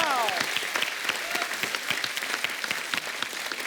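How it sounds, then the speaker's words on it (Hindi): Studio audience applause for a Filmfare award-winning actor, a dense burst of close clapping with a few voices underneath, fading slightly toward the end. "जोरदार ताली इनके लिए।"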